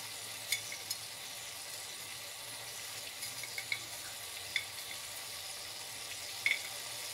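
Kalonji (nigella seeds) hit hot oil with a faint, continuous low sizzle, punctuated by a few tiny pops and crackles, heard close with no voices.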